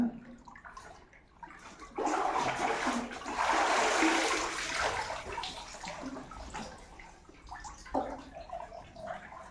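Knee-deep muddy water inside Guttikonda cave gives a rushing, splashing wash that swells loud for several seconds then settles into softer sloshing and drips, with no talk.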